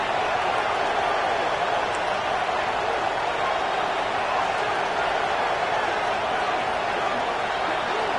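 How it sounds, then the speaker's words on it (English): Home crowd noise at a college football game: a steady, dense roar of fans filling the stadium without a break, loud and continuous throughout. "this home crowd is fired up and ready to make a difference"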